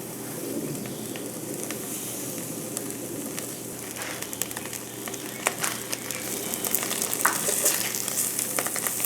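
A steak searing in a hot pan gives a steady, close sizzle with scattered pops and crackles that grow livelier toward the end, with no voices over it.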